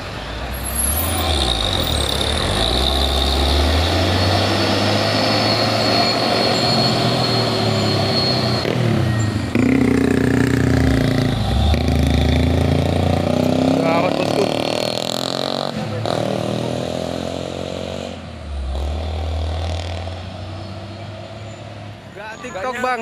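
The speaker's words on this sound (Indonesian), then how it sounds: "satu unit truk trailer yang Fuso yang tadi patah as di bawah tanjakan ya" A heavy Fuso trailer truck grinds up a steep incline, its engine droning loud and close for a long stretch, with air-brake hisses and people talking over it.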